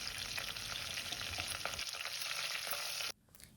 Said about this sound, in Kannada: ಇದು ರೋಸ್ಟ್ ಆದಮೇಲೆ 2 ಗರಿ ಕರಿಬೇವು, ಹಾಗೆ 1/4 ಸ್ಪೂನ್ ಜೀರಿಗೆನ ಹಾಕೊಳ್ಳೋಣ